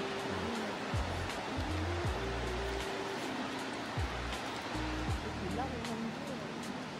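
Mackenzie Falls, a waterfall in Grampians National Park, Victoria, Australia, sends up a steady wash of rushing water while voices and tones sound over it.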